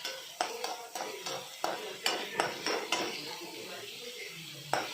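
Onions being stirred in hot oil in a kadai, with a spoon clinking and scraping against the metal pan in repeated sharp strokes over a faint sizzle.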